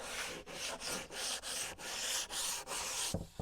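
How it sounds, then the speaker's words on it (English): Coarse 120-grit sandpaper rubs along the edge of an end-grain wooden cutting board in steady back-and-forth strokes, about nine close, even passes with brief gaps between them, ending with a small knock. "Piece of sandpaper. This is 120."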